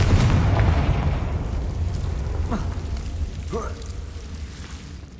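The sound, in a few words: Confringo explosion spell in video game Hogwarts Legacy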